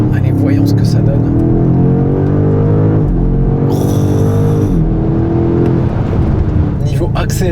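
BMW M5 G90 hybrid with a V8 under the hood accelerating hard, the engine note climbing through gears with brief shifts, loud and close under steady road and wind noise, with someone talking over it.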